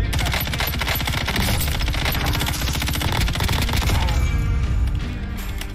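Sustained, loud rapid gunfire from a Warzone Gulag fight fills the whole stretch, a dense automatic rattle heard up close with little letup.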